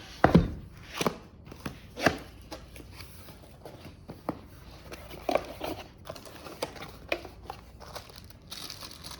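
Cardboard packaging of an ONFORU 48W RGB and UV LED light bar being opened, with sharp close tearing and crinkling bursts at irregular intervals between quieter handling rustles.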